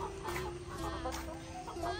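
A Brahma rooster clucks softly in short, repeated bursts, close by, over a steady background hum.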